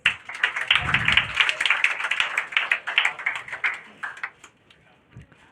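Crowd clapping at a Bihar Board 2025 district toppers' award ceremony, brisk and sharp at first, then tapering into sparse claps, with voices in the room.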